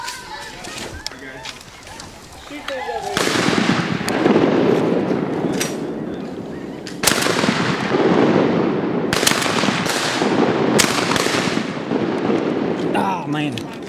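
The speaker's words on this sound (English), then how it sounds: "somebody shoot this one to the left, Danny" Gunfire during a duck hunt on Arkansas public land by an oxbow lake on a cloudy day, with sharp shots over steady outdoor noise and voices talking between them.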